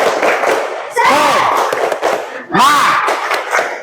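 A classroom group performs the Indonesian "tepuk semangat" clapping chant, voices shouting in unison with rhythmic claps in two loud bursts, close and energetic.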